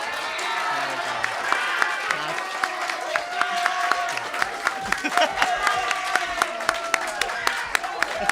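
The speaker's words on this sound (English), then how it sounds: "A standing ovation." Applause and scattered cheering from a standing audience at a spring term school awards ceremony, a steady wash of many hands clapping with sharp individual claps throughout, filling the room with voices mixed in.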